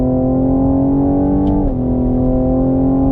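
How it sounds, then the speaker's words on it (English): A car engine drones loudly under acceleration, its pitch rising, then dropping abruptly at a quick upshift before pulling steadily again. "Fast upshifts."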